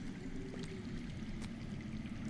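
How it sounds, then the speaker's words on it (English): Water running somewhere underground, heard as a steady low rushing wash with faint trickling on top, continuous and fairly quiet throughout, without anyone talking. "That's water. I hear water. From underground."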